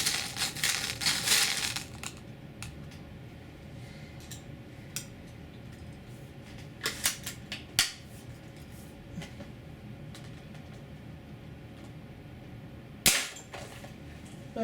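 Sharp air rifle shots fired across a chronograph, one burst near the start, a pair of cracks in the middle and a single crisp snap near the end, with quiet handling between.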